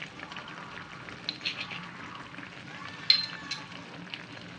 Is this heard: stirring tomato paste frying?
yes